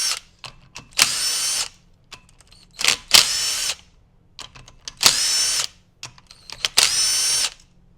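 A power tool spins out clutch bolts on an early Honda 450cc dirt bike in a series of short, loud, high-pitched whirring bursts separated by pauses and small clicks, close to the listener.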